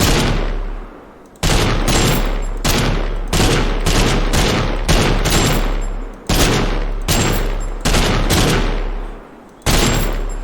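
Assault rifle in the game TABG fired in short taps, loud sharp shots in a series of about eight bursts spaced roughly a second apart, each decaying before the next.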